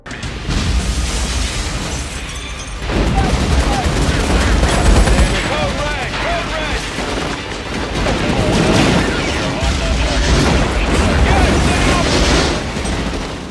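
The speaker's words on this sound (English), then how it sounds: "the army sabotages their raid and starts bombing the auto shop Tariq is in" Film battle scene of an army bombing an auto shop: dense, continuous barrage of explosions and gunfire bursts, loud and close throughout, with indistinct shouting mixed beneath the din.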